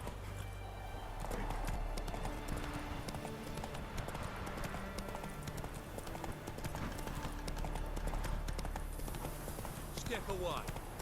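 Roach the horse galloping in The Witcher 3, a rapid, steady clip-clop of hooves running throughout, close and clear, with a voice urging the horse on over the hoofbeats and a brief whinny near the end.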